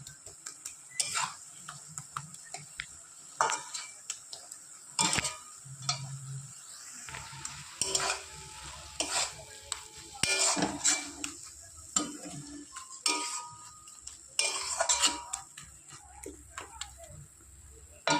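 Khar kon leaf paste being stirred in a pan over low heat, irregular close clinks and scrapes of a spoon against metal over a faint sizzle.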